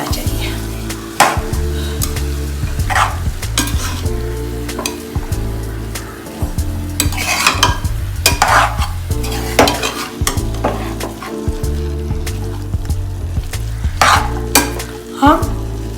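Soya, or dill, greens stir-fried in a pan for keema soya saag, loud continuous sizzling with rhythmic stirring scrapes and a low hum running underneath.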